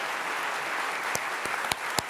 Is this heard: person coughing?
no